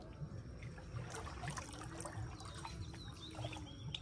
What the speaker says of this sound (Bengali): বাবা ঠেলে ঠেলে নৌকা এগিয়ে নিয়ে যাচ্ছে সামনের দিকে